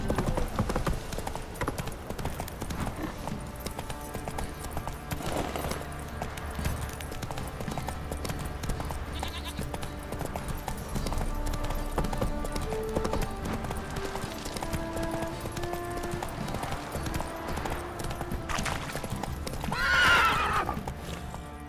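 Roach, the horse in The Witcher 3, gallops with steady rhythmic hoofbeats under in-game music and ambience, then lets out a loud neigh near the end.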